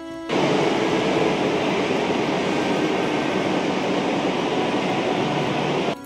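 A metro train rumbles through Noapara metro station, its loud, sustained roar starting suddenly and holding steady for several seconds before ending sharply, with no talking.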